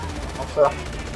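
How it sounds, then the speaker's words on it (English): Gunfire in the video game GTA 5 Online, a single sharp shot or very brief burst rising out of a steady background hum. "Gunshot. Sit down. Gunshot."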